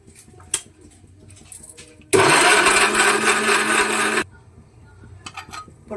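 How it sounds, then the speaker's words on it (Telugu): A mixer grinder whirs loudly for about two seconds, grinding spices with coriander powder, starting and stopping abruptly between quieter kitchen clatter. "ధనియా పౌడర్ వేస్తున్నా. గ్రైండ్ చేసేసుకుందాం."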